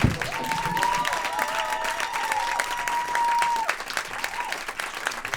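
An audience at a stand-up comedy show applauds to welcome comedian Maria Sepp to the stage, with steady, dense clapping throughout. A sustained tone rides over the applause for most of the clip.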